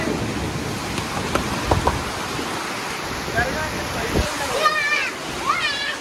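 Steady rain hissing down on a clay fort built for Diwali, a broad continuous wash of falling water with a few louder splashes, voices talking over it toward the end.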